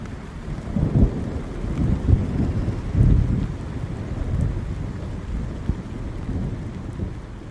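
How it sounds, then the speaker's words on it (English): A thunderstorm rumbles with rolling thunder over steady, pounding rain, deep low swells rising and fading several times against a constant wash of downpour, with no voices. "A rolling moan of thunder reminded Scotti of what he had expected for some weeks now."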